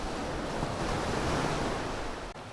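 Steady roar of ocean surf washing onto a deserted Konkan beach, broad and continuous, with wind rushing across the microphone throughout.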